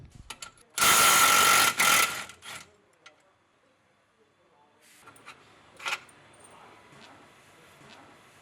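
Ratchet loosening the lower radius rod hardware on a Polaris Turbo S: a loud burst of rapid ratcheting clicks lasting about a second, then quieter scattered mechanical clatter and a few light clicks.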